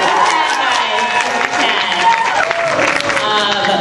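A convention panel audience at New York Comic Con cheering and applauding, a loud, dense crowd roar with clapping that swells and dips over a few seconds, voices mixed in.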